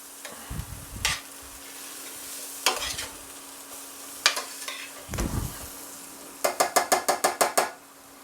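Beef casserole mixture with Worcestershire sauce being stirred in a pan, with several scraping strokes and low thuds, a faint sizzle underneath and a quick run of sharp rhythmic clicks near the end.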